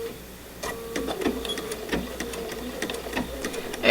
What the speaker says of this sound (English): I'm going to back stitch a little bit.